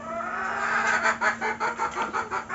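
Young Barred Rock and Rhode Island Red pullets cluck in a backyard flock, a run of short close clucks in uneven rhythm over a steady background hum.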